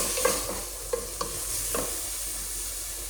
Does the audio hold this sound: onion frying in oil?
yes